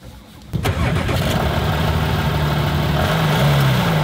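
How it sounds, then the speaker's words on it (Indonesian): A car engine cranks and catches after a brief quiet moment, then settles into a steady, loud idle that continues to the end without a break. "Nyalakan mobilnya sekarang."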